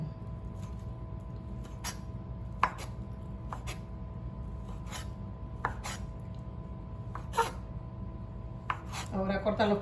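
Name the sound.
chopping bacon into thin strips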